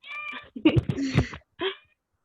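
A house cat meows a few times in a quiet indoor room, with short, mid-loud calls separated by pauses and a final brief mew.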